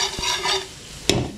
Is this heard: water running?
no